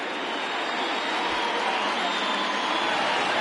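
A baseball stadium crowd in the MLB The Show 20 video game sends up a steady, loud, broadband roar that holds evenly throughout, with no clear breaks or peaks.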